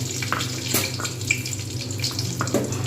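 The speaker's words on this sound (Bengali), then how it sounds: "সাদা তেল গরম হয়ে গেছে সুতরাং আমি এতে কালো জিরে আর কাঁচা লঙ্কাটা ফোড়ন দিয়ে দেবো" Nigella seeds and green chillies hit hot white oil in a continuous crackling sizzle with small pops, under a low steady hum and no voices.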